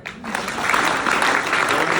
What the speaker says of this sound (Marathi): टाळ्या वाजा बरोबर आहे का